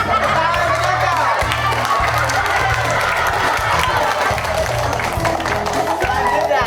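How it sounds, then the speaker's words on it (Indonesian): An audience bursts into applause and cheering for a young contestant at a Palembang talent show, dense clapping with crowd shouts and a loud music bed running underneath the whole time. "Tepuk tangan untuk Caca."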